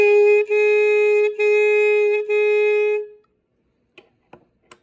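Saxophone mouthpiece and neck played by tonguing the reed, giving a bright, buzzy sustained tone broken into three tongued notes, followed by silence and a few faint clicks.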